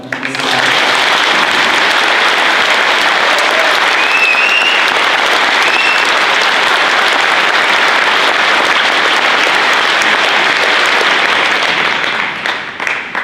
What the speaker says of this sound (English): Please give a round of applause to my mother.